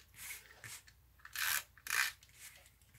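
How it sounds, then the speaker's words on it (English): Tape is pulled and pressed down onto a paper card for a handmade card project, making close, dry rubbing and ripping sounds in a few distinct short bursts, the two strongest near the middle and end, with no talking. "let me just tape this down"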